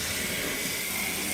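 A kitchen faucet head that had been cleaned of scale runs on its spray setting, giving a steady, close, airy hiss of water throughout with no voices.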